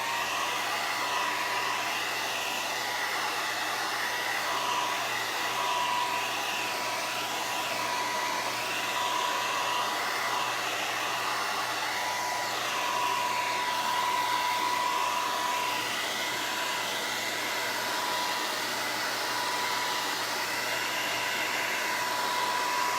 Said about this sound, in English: I'm gonna go ahead and dry it with the hair dryer